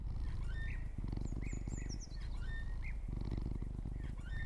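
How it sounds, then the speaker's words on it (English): Snoring in the video game Memoranda that sounds like a cat: a steady, rhythmic, rumbling purr close up, with faint chirping bird calls over it and no talking. "It sounds more like a cat snoring than a human snoring."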